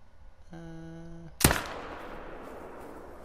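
A hunting rifle fires a single sharp, loud shot at an elk in the hunting game Call of the Wild. A brief sustained tone comes just before, and the crack rolls into a long fading echo.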